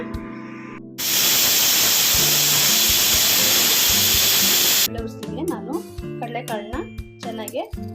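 A pressure cooker holding soaked chickpeas with salt lets out a loud, steady steam hiss for about four seconds, then cuts off. Speech follows.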